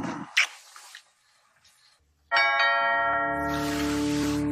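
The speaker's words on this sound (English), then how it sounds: "Anyone who rings a doorbell after midnight on New Year's Eve can't be a good person" A doorbell rings after midnight on New Year's Eve, a loud two-tone chime that sounds once and lingers with a ringing tail, following a faint quiet room with a brief sound.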